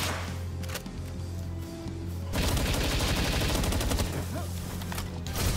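Assault rifle fire in the Palworld video game, starting with a few scattered shots and then breaking into a loud, sustained full-auto burst of rapid, evenly spaced rounds.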